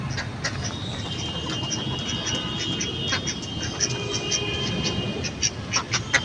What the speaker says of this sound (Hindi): इतना प्यारा ये बत्तख है